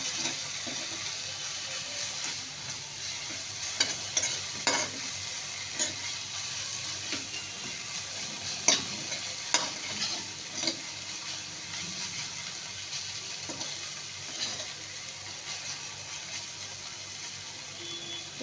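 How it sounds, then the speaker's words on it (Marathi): Dried shrimp and cabbage being sautéed in hot oil, a continuous close sizzle and crackle with scattered stirring scrapes and taps, no voices. "आता आपण हे तेलामध्ये परतून घेऊ"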